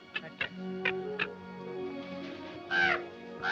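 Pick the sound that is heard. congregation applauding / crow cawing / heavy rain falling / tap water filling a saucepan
crow cawing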